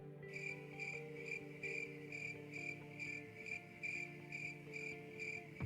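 Crickets chirp in a steady, evenly spaced pulse of bright, shrill trills, repeating about twice a second over a low, constant background hum.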